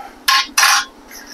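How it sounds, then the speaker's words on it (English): A plastic-wrapped spoon from a US humanitarian daily ration pack being handled, two close, sharp crinkling rustles of the wrapper followed by a fainter third. "Got a spoon"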